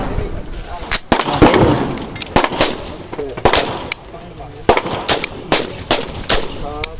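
A Sig Sauer gas-piston rifle firing at an outdoor demo day range, loud close shots in an irregular string with some quick doubles, while people talk between the shots.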